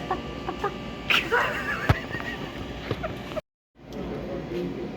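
A man mimics a chicken with his voice while eating Kentucky Fried Chicken, producing clucking and squawking noises amid background room noise and bits of chatter, with a brief drop to silence near the end.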